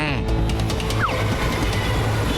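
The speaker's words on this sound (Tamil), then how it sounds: "ட்ரெயின் வரது தெரியுது சார்" A train draws near with a steady low rumble and rolling rail noise, while voices talk over it at close range.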